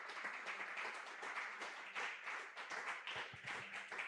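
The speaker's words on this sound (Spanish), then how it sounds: "¿Te animas a darle un aplauso al Señor por su palabra?" Church congregation applauding during a Spanish-language sermon, a fairly faint, dense patter of many hands clapping steadily throughout, with no speech over it.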